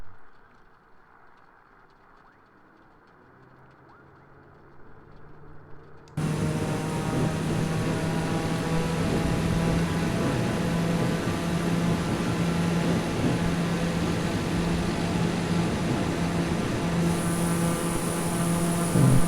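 A TBM turboprop airplane engine surges abruptly from a quiet cabin hum to a loud, steady roar with strong tonal whine during takeoff, holding constant and close until the end.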